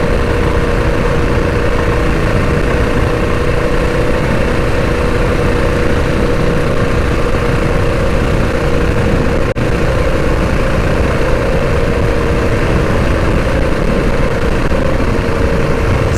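A Predator 212 mini bike engine, still in break-in, runs loud and steady close by, with a continuous throbbing drone held below full throttle.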